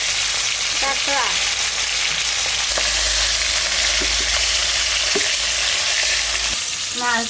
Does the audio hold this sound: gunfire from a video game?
no